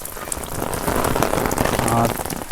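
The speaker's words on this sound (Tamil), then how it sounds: "மழை துடிக்கிட்டே இருக்குது, மழை பெஞ்சு தண்ணி ஓடிக்கிட்டே இருக்குது" Steady rain falls on a garden in a Cauvery delta village during the northeast monsoon, a dense close patter of drops with no voices over it.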